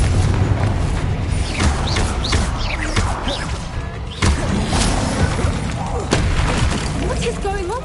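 Confringo fire spell blasts in Hogwarts Legacy combat, loud repeated booming impacts and crashes amid busy battle effects, with someone shouting spell names over the fight.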